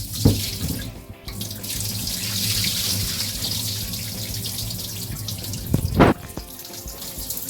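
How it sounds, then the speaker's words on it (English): Water used for washing turkey being poured away into a sink, a steady, close rushing splash that runs continuously, with a couple of sharper sloshes near the start and toward the end. "So pour the water away."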